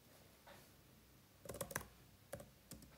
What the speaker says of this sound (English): I am so fast typing